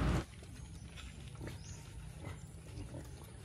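Native pigs feed on rice bran in their pen, with faint, scattered munching and low snuffling sounds over a steady background hum after a brief louder burst at the start.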